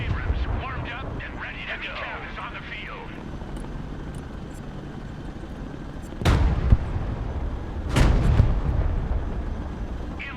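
Broken Arrow game gunfire, with two sharp, loud shots a couple of seconds apart over a steady background rumble, after a stretch of talk.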